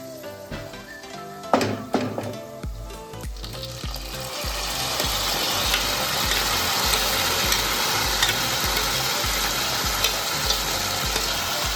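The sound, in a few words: roasting raisins and khichdo in a pan on low flame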